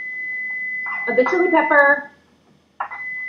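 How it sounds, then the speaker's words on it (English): A kitchen timer goes off while pork belly bao buns are being made, holding a steady high electronic tone. A person keeps talking over it, the tone drops out briefly, then it comes back. "You guys can hear the timer going off."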